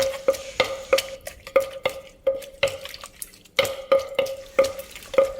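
A spoon stirs and clinks inside a mortar or bowl as som tum dressing of palm sugar syrup and fish sauce is mixed, giving roughly a dozen sharp ringing taps in a steady rhythm, close and loud, with no talk.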